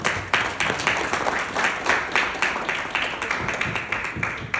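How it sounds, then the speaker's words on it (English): An audience at a corporate gathering claps for the leadership in a brisk, fairly regular rhythm, with distinct pulses that sound like a modest group rather than a large crowd. "Can we please clap for the leadership?"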